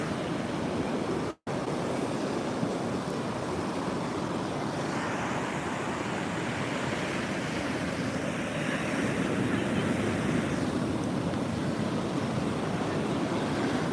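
Steady roar of Atlantic surf from Hurricane Erin breaking on the shore at Bethany Beach, a continuous wash of waves with some wind rumble, fairly loud and unbroken throughout.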